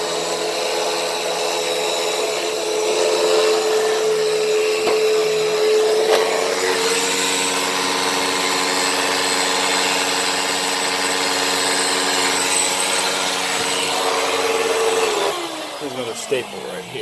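A Hoover WindTunnel upright vacuum cleaner runs steadily over a dirty carpet, a loud continuous motor whine with a droning hum that holds for most of the stretch before shifting pitch near the end as the machine is moved or set down.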